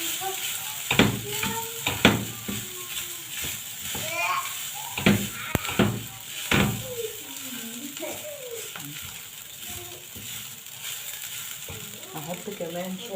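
Freekeh grains sautéing in cooking fat in a pan, with a soft sizzle beneath sharp scraping and clanking of a utensil against the pan in irregular bursts, fairly close.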